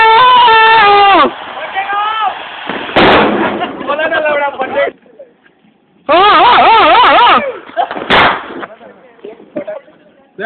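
Diwali firecrackers go off outdoors at a boys' hostel in Chennai, with two sharp, loud bangs amid constant excited shouting and chatter from a crowd of young men.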